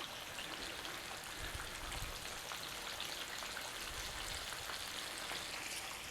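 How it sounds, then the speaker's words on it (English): Chicken pieces frying in hot oil for fried chicken, giving a steady, even hiss and dense crackle that continues without pause, close and moderately quiet, with no voices. "So we're just letting it fry until we see a bit of goldiness around the outside."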